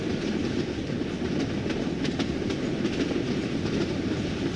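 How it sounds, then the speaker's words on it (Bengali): A cartoon train rolls steadily through the night, its wheels making a continuous rumbling clatter with faint rhythmic clicks, loud and close throughout. "অন্ধকারের বুক চিরে সামনের দিকে এগিয়ে চলছে ট্রেন"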